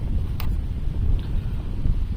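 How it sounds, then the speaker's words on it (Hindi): Wind gusts across an open sugarcane field, producing a continuous low buffeting rumble against the microphone with no other clear sounds. "हवा चल रही थोड़ी सी"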